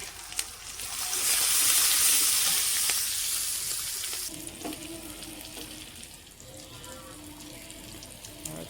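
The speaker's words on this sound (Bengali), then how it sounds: "এখন পেঁয়াজ আর কাঁচা লঙ্কাটা লাল লাল করে ভেজে নিব।" Onion and green chilli fry in hot oil in a pan with a loud, bright sizzle that swells for several seconds, then drops to a quieter crackle with scraping stirs.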